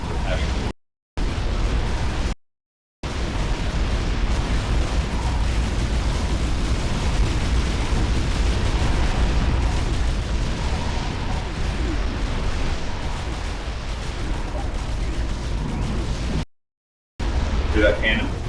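Cannon fire and explosions from the tower defense video game Defense Grid 2 form a dense, loud, continuous barrage of rumbling booms, broken by a few brief silent gaps.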